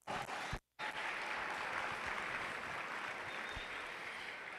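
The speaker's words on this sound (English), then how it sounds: "give these exhibitors a round of applause on a job well done" An audience at a youth fair steer show applauds the exhibitors, with dense sustained clapping that fills the space, breaking off for a brief moment before resuming steadily.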